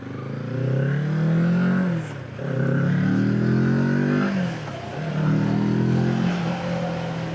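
Kawasaki Z650 S motorcycle engine held in third gear at 4000 rpm, a loud, close, steady droning hum that dips briefly twice as the throttle eases and then recovers.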